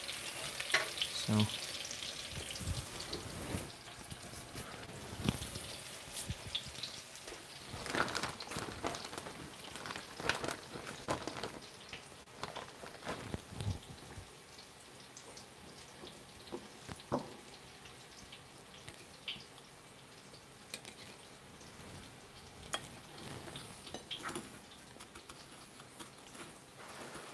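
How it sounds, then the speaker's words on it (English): Breaded chicken of the woods mushroom pieces bubble in hot oil while being flipped with chopsticks, a close, fairly quiet sizzle with scattered clicks and splashes; one short spoken word is heard. "I'm going to flip these all over. I like to fry with chopsticks."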